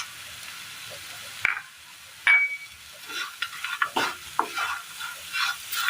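A spoon stirs cooked banana and jaggery in a pan, mostly quiet at first, then a couple of sharp metallic taps and a run of scraping, sizzling stirs growing denser toward the end. No voices.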